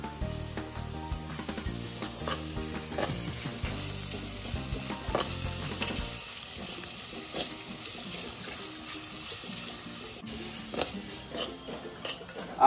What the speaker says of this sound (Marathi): हा कांदा आपण परतून घेऊया.